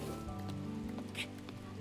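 Soft rain begins falling in the video game The Legend of Zelda: Breath of the Wild, a quiet, steady patter of drops on surfaces with no talking over it.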